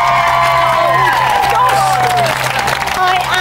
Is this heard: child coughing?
no